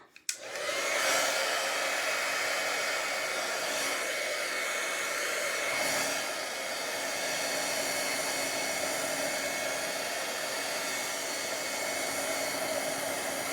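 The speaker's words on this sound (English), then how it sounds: "now I'm gonna go back to my heat tool" Heat tool used for mixed media crafting, a hair-dryer-like blower that starts with a click and then runs as a steady, loud, continuous whoosh with a faint tonal whine, alone for the whole stretch.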